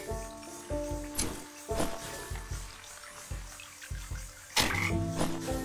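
Frogs croak in the video game Wytchwood, a repeated series of low, throaty calls at a steady pulse with a brighter splash-like burst near the end.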